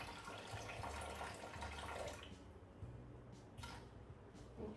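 Lukewarm water pours into a Thermomix bowl for pizza dough, a steady rushing stream that fills the first half and then gives way to quieter trickles and light clinks.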